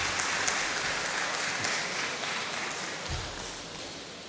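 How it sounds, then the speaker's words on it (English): A university hackathon audience gives a round of applause for the head of department, steady dense clapping filling the whole stretch at moderate distance with no talk. "Please, another round of applause for him."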